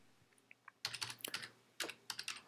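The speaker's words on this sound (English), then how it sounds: "So I type here" Typing on a computer keyboard while entering a blog address, quick bursts of close, soft key clicks with short pauses between them, quiet overall.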